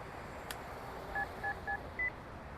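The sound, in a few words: telephone dialing tones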